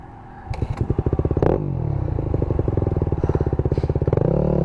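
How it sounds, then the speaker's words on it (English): A Yamaha WR250R enduro motorcycle engine fires up close by with loud, rapid, regular firing pulses that hold steady and swell slightly toward the end, with no talk over it. "Let's see if the WR250R will start."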